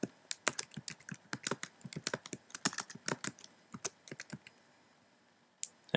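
Keys clatter on a computer keyboard as a search for a WordPress plugin is typed, a quick irregular burst of close, crisp clicks that pauses and ends with a couple of final taps.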